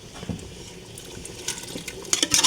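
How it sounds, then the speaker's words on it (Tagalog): Water is poured into a cooking pot of goto, a beef tripe soup, with irregular splashing and trickling that builds louder near the end and no talk over it. "Dagdagan natin ng tubig pa yan."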